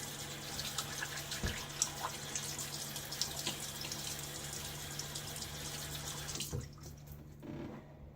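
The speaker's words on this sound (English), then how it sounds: "let's go wet my face again" Tap water runs steadily into a sink at close range while a face is wetted for shaving, with a few splashes before the flow stops near the end.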